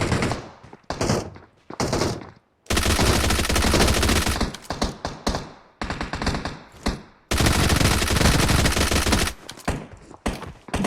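Automatic gunfire in the PUBG battle game, loud sustained bursts of rapid shots broken by short gaps and a few single shots.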